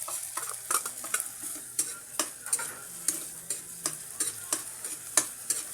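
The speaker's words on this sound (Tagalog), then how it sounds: "Halu-haluin na lang natin yan hanggang sa maluto" A spoon scrapes and taps repeatedly through buttered garlic crabs with ketchup and pepper in a sizzling pan, the irregular clinks standing out over a soft steady fry.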